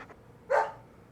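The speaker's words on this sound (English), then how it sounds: "It's the best way I can describe the bark sound effect" A single short, tinny dog bark sound effect from the Deadly Premonition video game, with a flat, low-fidelity character that stands alone and fades after a brief burst.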